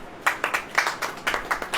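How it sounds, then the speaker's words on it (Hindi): An audience at a church sermon claps in a steady rhythm, about seven or eight even claps at close range with no talk over them. "ताली बजाओ"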